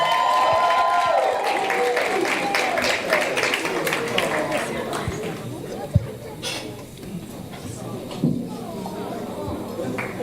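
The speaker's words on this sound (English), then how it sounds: "Give her a little more and some more claps." An awards ceremony audience claps and murmurs throughout, a broad, steady wash of applause with scattered cheers, while a voice speaks over it.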